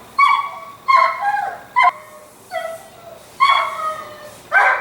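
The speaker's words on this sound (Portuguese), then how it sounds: "Minha cachorra." A pet dog barks and yips in short bursts, about six sharp, fairly loud calls with brief whimpering tones between them, close by and without talk.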